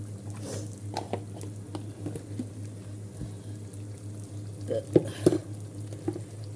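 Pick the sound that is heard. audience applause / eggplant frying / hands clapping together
eggplant frying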